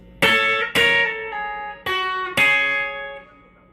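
An electric guitar plays a lick with the bar held on the top two strings, four plucked double-stop notes in a loose rhythm, each ringing and decaying, with no voice.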